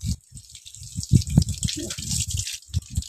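Running water splashes and drips as mud is rinsed off something and hands are washed outdoors in a village, with uneven trickling and splashing close by.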